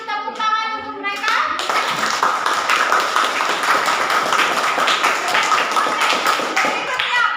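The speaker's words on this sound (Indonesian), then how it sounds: "Mari kita berikan tepuk tangan untuk mereka." Classroom applause for a presenting student group at a senior high school: a brief spoken lead-in, then dense, lively clapping from many hands that continues steadily to the end.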